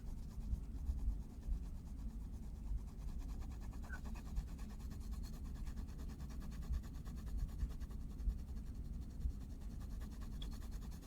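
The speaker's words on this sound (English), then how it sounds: "Really letting up pressure on the pencil." Pencil shading on paper with light pressure, a faint, continuous soft scratching and rubbing over a quiet low background hum.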